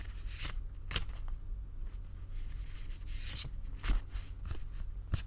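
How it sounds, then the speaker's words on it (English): Tarot cards shuffled by hand in a close, steady series of soft riffling and sliding strokes with a few sharper snaps, heard alone with no talk. "I shuffle until Spirit asks me to stop"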